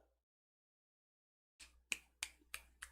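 A hand closing quickly makes a one-handed clap, heard as four sharp, crisp pops in a quick, slightly uneven rhythm, close and clear after a moment of near silence.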